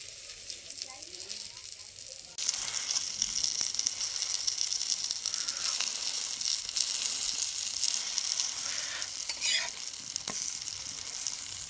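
Egg and eggplant slices frying slowly on low heat in a pan, a quiet start that turns into a steady continuous sizzle with occasional pressing and scraping sounds, close and even.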